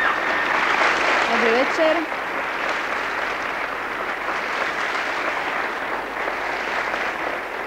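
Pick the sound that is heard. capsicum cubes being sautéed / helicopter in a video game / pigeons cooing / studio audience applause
studio audience applause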